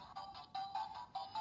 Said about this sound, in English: When you hit the enter button,